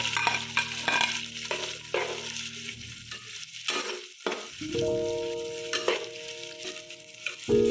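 Onions frying in oil with ginger-garlic paste in a pan, a close crackling sizzle broken by loud stirring scrapes and clanks of a spoon against the pan.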